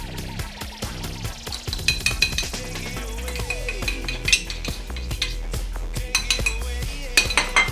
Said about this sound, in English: And so you mix the shit out of that.